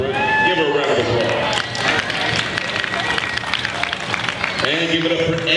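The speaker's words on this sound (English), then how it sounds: "Congratulations, give her a round of applause." Crowd applauding and cheering at an outdoor charity rappelling event as a participant goes over the edge of a building, sustained clapping with hubbub throughout.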